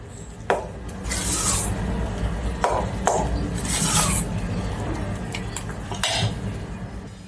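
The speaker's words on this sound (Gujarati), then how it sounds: "મિક્સ કરી લઈશું આ રીતે મિક્સ કરી લઈશું" Dhokla batter mixed in a bowl, a rhythmic scraping and rubbing of a spoon against the sides in repeated strokes, punctuated by sharp clinks against the bowl rim, close and fairly loud.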